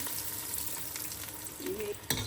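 Onions frying in hot oil give a constant close sizzle with occasional stirring scrapes, a brief tonal squeak and a sharp clack near the end.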